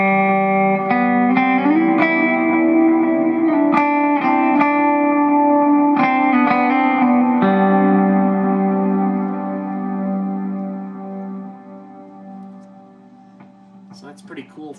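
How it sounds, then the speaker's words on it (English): Electric guitar played through a Boss GT-100 multi-effects unit using the Terra Echo delay, sustained chords and picked notes ringing out with long echoing trails that slowly fade into near silence at the end. "So here I'm using the Terra Echo, and it really gives a nice trail to the sound."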